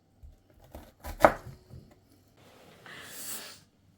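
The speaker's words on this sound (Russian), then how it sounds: "Вот такими вот кубиками нарезаем лук." A kitchen knife dicing onion into small cubes on a board for a meat pie, a few soft chops then a louder crisp cut, followed by a brief rustle, close and fairly quiet.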